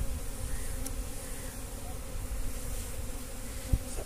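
Honey bees hum steadily around beekeeping boxes set near flowering mustard, a continuous, moderately faint buzzing swarm drone with no one talking.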